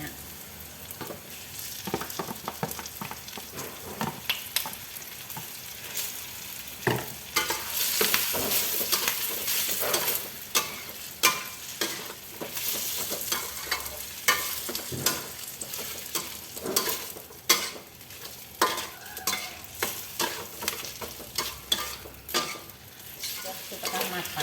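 Chicken and wilted onions stir-fry in a pan with a continuous loud sizzle, broken by repeated scraping strokes of a utensil, close up and with no talking.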